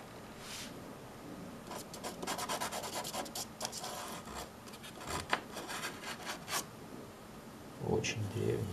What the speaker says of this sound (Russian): Это очень древняя наждачка.